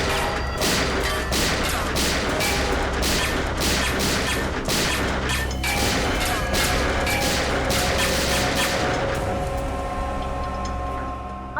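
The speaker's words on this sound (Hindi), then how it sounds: "क्यों फिजूल में कानून की गोलियां बर्बाद कर रहे हो" A dense, rapid barrage of gunshots rings out continuously in a TV crime drama scene, loud and chaotic, with sharp cracks and booms layered over a thick roar of noise.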